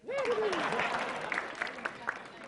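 Comedy club audience clapping beneath a speaking voice, a fairly faint spread of applause with a few sharper individual claps as it thins out.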